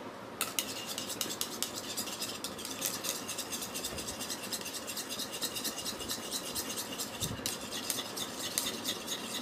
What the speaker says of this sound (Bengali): এই লেবুর রসটা এই টক দইটার মধ্যে দিয়ে দেবো এবার এটাকে আমি ভালো করে মিক্সড করে নেবো